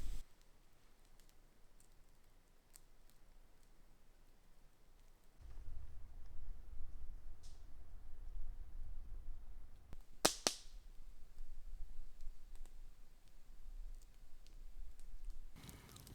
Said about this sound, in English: So I just cracked open my last beer.